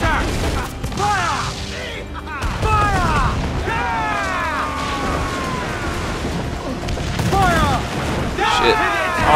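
Ship cannons fire in the naval combat of Assassin's Creed 4: Black Flag, booming in several heavy bursts while a voice talks throughout.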